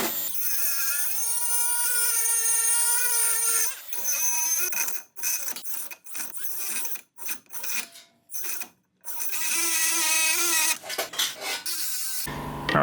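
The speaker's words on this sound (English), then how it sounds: "So we need to mark that out and cut that little webbing out right here." A high-pitched power tool whines loudly and close while cutting a small web of metal out of a part during a turbo K24 engine swap into a Cefiro, the tone starting and stopping repeatedly in short bursts.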